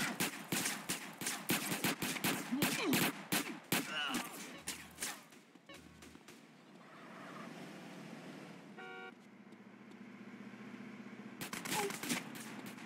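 Rapid gunfire bursts rattle in from several directions during a GTA San Andreas shootout, dense and loud for the first few seconds, then easing into engine drone and a horn-like tone before more shots resume near the end.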